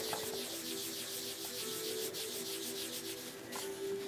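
A piece of paper loaded with makeup colour is rubbed steadily against a small surface, making a soft, continuous close-up scraping and swishing with slight rhythmic strokes.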